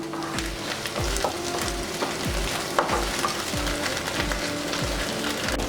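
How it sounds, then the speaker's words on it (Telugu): Ginger garlic paste fries in a pan for chicken fry, a constant close sizzle with evenly spaced scraping strokes of the spatula repeating about once a second, with no talk. "అల్లం వెల్లుల్లి పేస్ట్ పచ్చివాసన పోయేదాకా మనం కొంచెం ఫ్రై చేసుకుందాం."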